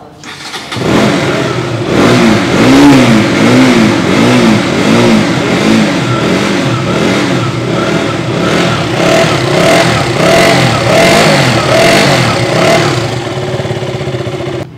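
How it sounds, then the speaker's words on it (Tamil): A loud Royal Enfield motorcycle engine revs repeatedly, rising and falling in rhythmic throttle blips over a steady idle, close to the microphone with no talking. "ஸோ வண்டியோட அந்த த்ராட்லிங் சவுண்ட் பார்க்கலாமா?"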